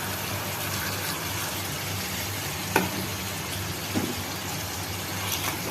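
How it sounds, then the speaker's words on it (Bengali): Taro stolons frying in spice paste give a steady, even hiss and sizzle throughout, with a couple of faint clicks from stirring and no talking. "এই যে আমি এখন কচুরলতিটা কষাচ্ছি"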